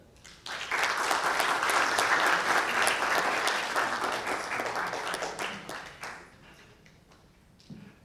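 An audience at a book panel discussion bursts into warm applause welcoming a panelist, a dense wash of clapping that swells quickly, holds for several seconds, then tapers off into quiet.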